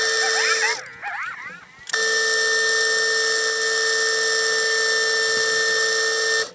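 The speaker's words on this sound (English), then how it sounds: "now I need to machine some little snap ring grooves into this teeny tiny" A small machine tool whines steadily at high pitch while cutting snap ring grooves into a tiny metal rod, loud and close, with a brief dip and shifting tones before the sustained cut resumes.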